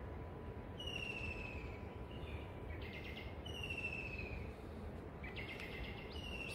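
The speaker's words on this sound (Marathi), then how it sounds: "इतके सुंदर पक्ष्यांचे आवाज" Birds call in a garden at Guhagar in the Konkan, a few clear high whistled notes and short chattering bursts repeating over a steady background hiss, with no one speaking.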